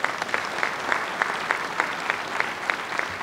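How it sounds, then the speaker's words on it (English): Audience applause from a crowd, steady and moderately distant, with some sharper claps standing out at a regular pulse. "let's give them a big round of applause."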